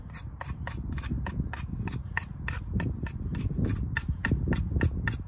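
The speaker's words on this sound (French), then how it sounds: "je lisse la pointe et voilà une pointe toute belle, toute lisse" An ESEE 6 3D bushcraft knife shaves a carved wooden point smooth in a fast, even series of close, crisp scraping strokes, about three or four per second, repeating steadily throughout.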